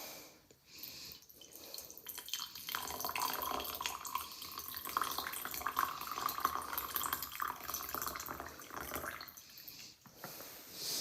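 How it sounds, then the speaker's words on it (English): Limeade pours into a glass, a steady splashing liquid stream that runs for several seconds at moderate level and tapers off at the end, with no talking. "And then we're gonna pour the limeade about halfway full."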